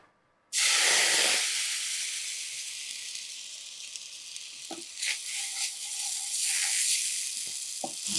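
Milk poured onto roasted rusk in a hot pan for rusk halwa bursts into a loud hiss from silence, then settles into a fading sizzle broken by bubbling pops and a few stirring scrapes.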